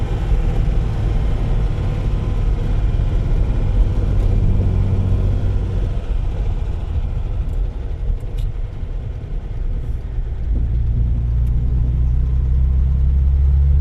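A 1952 Rover P4 75 driving along a scenic road, its engine giving a steady, close, low rumble that holds throughout and deepens slightly near the end.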